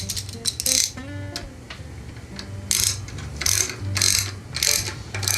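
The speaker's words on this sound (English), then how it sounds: "And we'll retighten." A ratchet wrench clicks in repeated bursts of pawl ratcheting as it tightens fasteners during a carburetor install on a Subaru EX17 6.0 SP 170 engine from a pressure washer, loud and close with short pauses between strokes.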